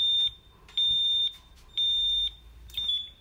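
A Honeywell Vista alarm panel gives repeated loud electronic beeps on being disarmed, four steady tones of roughly half a second each, evenly spaced, with no voices.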